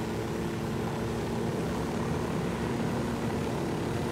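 A helicopter in the video game Ghost Recon Wildlands drones steadily with a dense rotor and engine roar, constant and fairly loud for the whole stretch with no talking.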